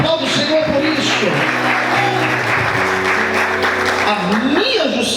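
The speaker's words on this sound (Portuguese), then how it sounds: "Aplauda o Senhor por isso." A church congregation applauding, sustained clapping from many hands that fills the space throughout, with a preacher's voice rising and falling over it.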